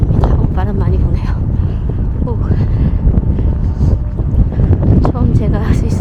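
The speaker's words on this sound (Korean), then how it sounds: "바람 많이 부네요." Strong wind gusts buffet the microphone during an outdoor walk in Switzerland, a constant loud low rumble with someone talking over it throughout.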